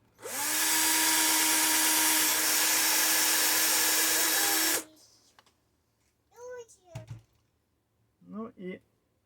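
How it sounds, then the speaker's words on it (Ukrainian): A power drill drives a long screw in one loud, steady whine lasting about four seconds, then stops; brief bits of speech follow in the quieter remainder. "щоб можна було максимально довгий шуруп сюди загнати"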